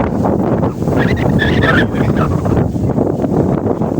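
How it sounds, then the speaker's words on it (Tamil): Loud, steady wind roars and buffets the microphone on a hilltop throughout, with a brief faint voice-like tone partway through. "காற்று எப்படி அடிக்குது."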